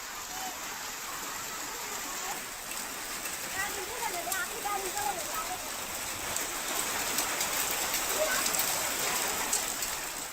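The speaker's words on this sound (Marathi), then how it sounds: "गावामध्ये गारपीटीचा पाऊस पाहायला मिळाला" Unseasonal rain with hail falls over fields and villages in Maharashtra, making a steady, dense patter with scattered sharper ticks, constant and moderately loud throughout.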